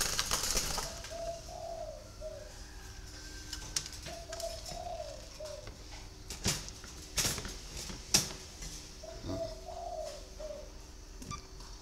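Early-morning cooing of a spotted dove, phrases repeating about every four seconds in a short soft pattern, with a brief wing flap near the start and small clicks and ticks scattered through the quiet.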